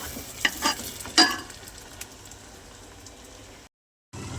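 Chicken and yogurt cooking together in a pan for biryani, a soft steady sizzle with a few brief clattering stirs near the start, then a short silent gap before the sizzling resumes.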